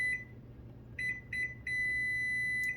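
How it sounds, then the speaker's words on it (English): Panasonic NN-SC67NS inverter microwave oven beeping: a few short electronic tones in quick succession, then one long sustained beep, clear and close in a quiet room. "so to turn off the beep, apparently you gotta unplug it and plug it back in"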